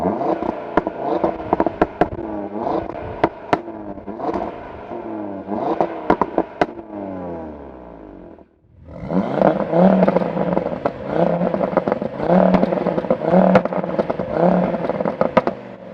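Audi TT RS MK2 and MK3 cars revving nearby, sharp bursts of engine roar with popping and crackling exhaust, a brief lull, then a sustained loud rev.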